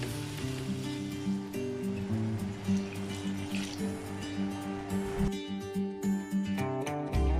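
Water from a cup pours into a pot of chicken being cooked for biryani, a continuous liquid splash and trickle under a low, steady background hum, with no voices.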